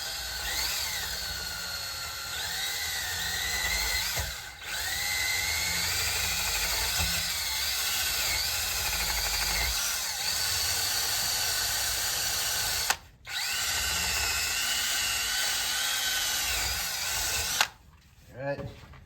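A power tool whirs steadily while working a nut off a vehicle suspension bracket, a continuous mechanical drone with faint pitch shifts, broken by two brief pauses, running close and loud for most of the stretch.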